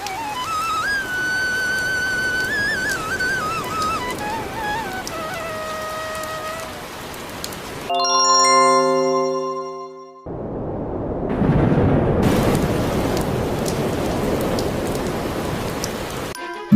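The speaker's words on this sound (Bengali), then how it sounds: "সেই সাথে বাইরে আবারও বৃষ্টি শুরু হলো।" Rain falling outside in a Bengali Thakumar Jhuli style cartoon, a steady broadband hiss that fills the scene after a short musical sting, continuing loud and unbroken through the later half.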